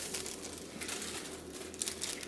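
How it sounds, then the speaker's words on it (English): Ingredient packaging, a bag of sugar for brown butter shortbread, crinkles and rustles close up in soft irregular bursts over a low background hum, with no talking. "there's gonna be a lot of crinkling here"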